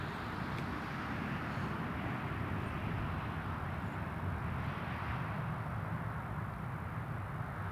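Emirates airliner beginning its takeoff roll at Newcastle International Airport, a distant, steady low engine rumble and roar that holds evenly throughout with no voices.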